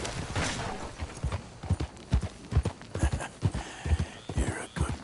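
Horse hooves clip-clopping at a gallop in the Red Dead Redemption 2 video game, a steady rhythmic drumming of close, loud footfalls with a faint whisper-like voice partly under them.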